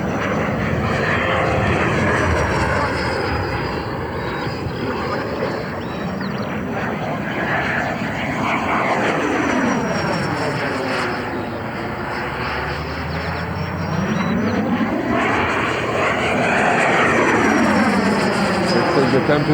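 Radio-controlled Black Horse Viper model jet with a 120mm electric ducted fan, 6.5kW on 12s Li-Ion, roaring loud and steady as it passes with rising and falling Doppler sweeps, voices faintly underneath.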